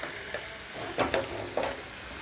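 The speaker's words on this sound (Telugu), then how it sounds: "ఇందులోకి మనం కొంచెం బటర్ యాడ్ చేసి ముందుగా హాఫ్ కుక్ చేసుకున్న చపాతీని ఇలా" Half-cooked chapati sizzles softly in butter in a pan on the stove, a gentle frying hiss broken by a few brief stirring or pressing scrapes.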